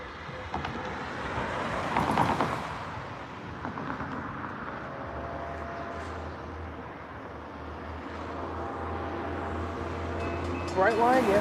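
Brightline passenger train passing in Stuart, Florida, a low rumble building and fading with a horn blast near the start and a steady rolling drone later, heard from trackside with some talk.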